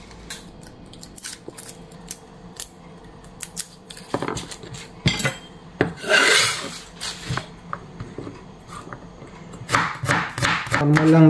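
Onion and garlic being sliced for a Filipino humba of braised pork: a knife taps and cuts against a board in uneven bursts, close and crisp, with scraping swishes and quicker chopping runs near the end.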